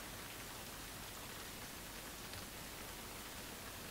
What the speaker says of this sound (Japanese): いいところで雨。